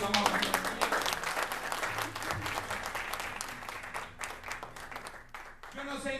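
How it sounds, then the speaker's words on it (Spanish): A church congregation breaks into applause during a sermon, a burst of clapping that starts loud and slowly thins, with a few voices and calls mixed in, and a voice speaks near the end. "Yo le daría un aplauso al Rey."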